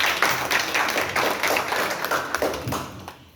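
An audience at a political gathering claps to welcome a state secretary, giving a modest, uneven patter of hand claps that rises and falls and thins out toward the end.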